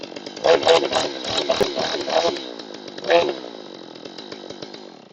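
Small G111 chainsaw, a clone of the MS200T, idles high with its chain brake engaged, giving a steady buzzing drone with throttle swells. Someone talks over it.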